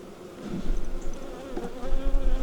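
Honeybees hum steadily around an opened hive of a weak colony in a farmyard, a close, continuous buzz with swelling bursts as the frames are worked.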